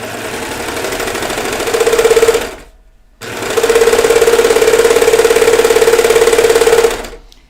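A serger stitches overalls fabric in two long, loud, steady runs of fast rattling hum with a brief stop between them, close up and alone.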